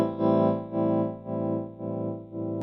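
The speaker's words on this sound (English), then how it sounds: "I've set up the wiggler for kind of a slow, subtle tremolo" Electric guitar through a clean amplifier with an Electro-Harmonix Wiggler pedal adding a slow, subtle tremolo, a sustained chord swelling and dipping in about five even pulses, moderately loud with no talking.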